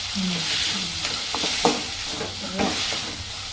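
Tomatoes sautéing in a pan with steady stirring, soft scraping strokes over a continuous frying sizzle, close and fairly quiet with no talking.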